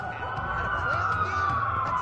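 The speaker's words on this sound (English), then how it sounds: "That's a lot of sirens for a blackout." Police sirens wail in the Watch Dogs video game, a steady rising and falling tone over low engine rumble, several sirens blending together at moderate volume.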